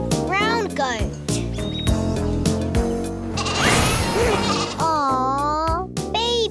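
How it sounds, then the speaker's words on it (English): Baby goat bleating, several short wavering cries in quick succession, close and fairly loud, with someone talking in between. "Baby goat."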